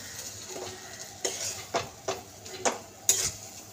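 A paste of poppy seeds, green chili and ground nuts is stirred in a pan, with a spoon scraping and clinking against the metal in several distinct strokes over a faint sizzle.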